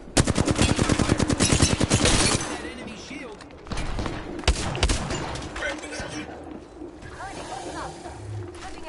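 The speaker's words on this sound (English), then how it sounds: "Shooting at me." Rapid automatic gunfire in a video game, dense loud bursts at first, then scattered shots and impacts, with voices talking over the action.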